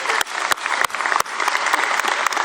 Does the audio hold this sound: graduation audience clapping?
yes